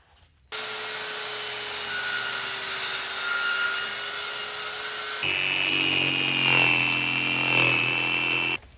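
Continuous power saw cutting through plywood to shape a window outline, a steady whining drone that shifts to a higher, harsher pitch partway through, loud and close with no talking.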